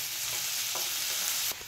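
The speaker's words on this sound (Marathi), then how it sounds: "कांदा छान असा परतून घ्यायचा" Onion and garlic sauté loudly in hot oil in a pan, a dense, steady sizzle close up, broken by a couple of soft stirring scrapes near the end.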